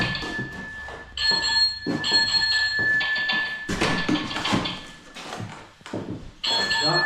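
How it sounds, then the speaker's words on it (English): Railway signal box communication bells at a railway museum, a series of clear metallic rings separated by short gaps and mixed with knocks and clunks of equipment nearby. "Those are the bells. That's the way the signal boxes communicated with each other."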